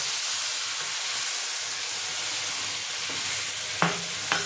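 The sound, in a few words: coconut milk with turmeric added to hot pan, stirring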